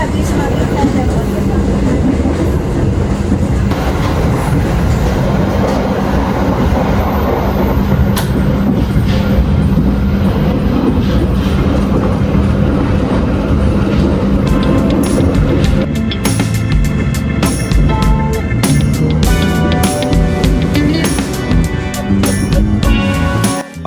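KA Sembrani passenger train running on rails through rice fields in Indonesia, a steady loud rumble of the carriage interior throughout, with denser rattling and clatter building in the last several seconds.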